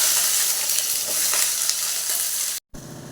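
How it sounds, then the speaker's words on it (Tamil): Two large onions frying in oil with mustard seeds in a kadai, a steady close hiss and crackle of sizzling that cuts out for a moment near the end before resuming. "அடுத்தது 2 பெரிய சைஸ் வெங்காயத்தை போட்டு வதக்கிக்கிறேன்"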